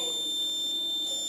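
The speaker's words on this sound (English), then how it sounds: "after the heat sensor senses the temperature, the door opens, and the fire alarm also" A heat-sensor fire alarm on a school science project model sounds as a steady, high electronic buzzing tone that holds unbroken throughout, fairly quiet and alone.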